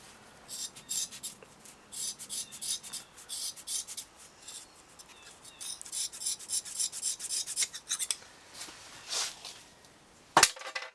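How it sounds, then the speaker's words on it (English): Nylon cord being rubbed between the fingers to work its cut sheath over the core, giving a steady run of close, dry scratchy rasps in short bursts with a sharp snap near the end. "you're going to take the cord from the center and you're going to rub it out so that sheath is going over the end there, covering the core"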